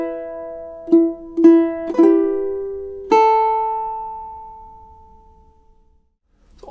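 A fingerpicked ukulele plays four clear plucked notes, the first three close together and the last ringing out long and fading to silence.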